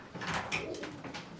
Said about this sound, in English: Sugar King, Federation winner, a fantastic pigeon